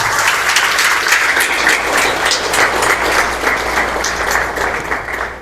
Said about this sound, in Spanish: Denle el aplauso a Dios.